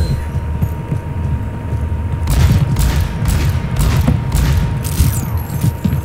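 Bombs exploding in Overwatch: a dense run of booming blasts and crackling bursts, loud and continuous over a rumbling game background.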